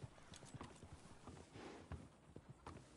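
Hooves of a horse clip-clop at a walking pace in the video game Red Dead Redemption 2, a quiet, irregular series of close thuds over faint background ambience.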